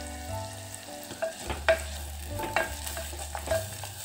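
Ground spice paste sizzles in hot oil for tempering a green moong dal amti, stirred steadily with a few louder scrapes and clinks over a constant frying hiss.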